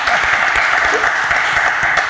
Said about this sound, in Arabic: صفقوا عليا الله يخليك